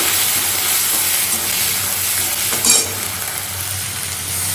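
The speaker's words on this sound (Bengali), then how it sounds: "একটা হাফ টমেটো দিলাম, টমেটোটাকে জাস্ট একটু ভেজে নিব তেলে" Half a tomato frying in hot oil in a home kitchen with a fan running, a close, continuous sizzle with a brief louder crackle partway through.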